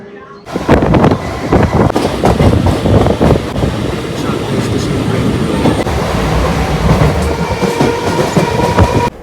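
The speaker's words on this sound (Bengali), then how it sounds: "ট্রেন ঢুকছে শিয়ালদা স্টেশন।" Ranaghat local train rolling into Sealdah station, a steady loud rumble of wheels on rails with rhythmic clickety-clack and wind buffeting the microphone throughout.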